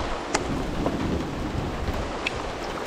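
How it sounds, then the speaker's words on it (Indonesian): Heavy rain pours steadily, a thick continuous roar of drops close by with a few sharper splashes and patters standing out from the wash. "Tapi hujannya masih deras banget."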